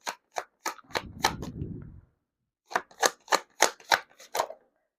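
Tarot cards are shuffled in short, crisp snaps and riffles close by: a run of sharp slaps, a brief soft rustling riffle, a pause, then another quick series of card snaps.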